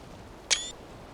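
A single sharp camera shutter click with a brief bright ring sounds once in the Valheim video game, quick and clean against a quiet background.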